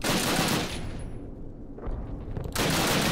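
Rapid bursts of gunfire in Call of Duty, loud and dense at the start and end with a brief lull in the middle.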